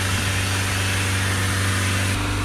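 A Toyota ProAce 2.0 diesel engine is held at raised revs, giving a loud, steady, unbroken drone with a strong low hum that shifts slightly in pitch near the end.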